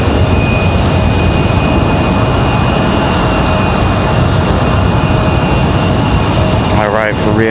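A Delta Connection regional jet departs Raleigh-Durham International, its engines a steady, loud broadband roar that fills the whole stretch, with a voice talking over it.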